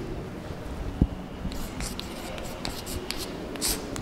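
Marker or chalk writes on a board during a physics lecture on a cell's internal resistance, giving soft scratchy strokes in short bursts with a light knock, faint against room noise.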